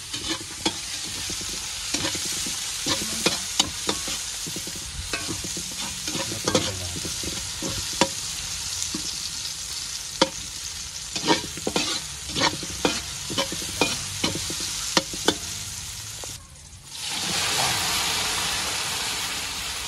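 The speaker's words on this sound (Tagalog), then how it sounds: "Ilita natin itong sibuyas, bawang, at kamatis." Onion, garlic and tomato sizzle and crackle in a hot pan while a utensil stirs and scrapes, popping in bursts, then a steady hiss near the end.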